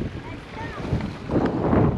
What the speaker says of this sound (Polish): mam nadzieję, że mnie słychać, bo straszny wiatr się zerwał